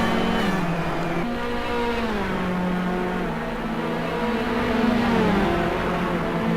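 BMW 3 Series race cars circling Imola in a sim racing game, a continuous engine drone with shifting pitch as the cars brake and accelerate through a chicane, loud and steady with no talk.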